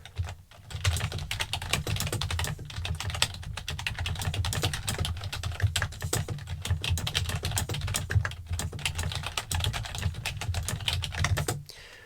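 Rapid, loud typing on a computer keyboard fills the whole stretch, a dense continuous clatter of keystrokes close up, with only a brief pause near the start and end and no speech.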